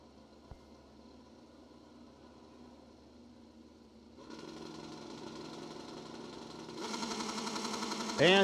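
A racing motorcycle idles at a drag-race shootout, its engine ticking and rumbling, then rising in two stepped surges to a louder, harsher roar near the end, close by.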